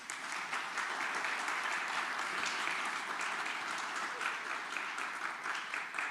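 A lecture audience applauds for the remote venues following a history course, sustained faint applause from a hall that holds steady throughout.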